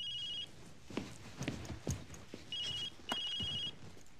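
A phone rings in bursts of electronic trilling: one short ring at the start, then two more after a pause. Faint rustling and soft footsteps or movement sit underneath, with no talking.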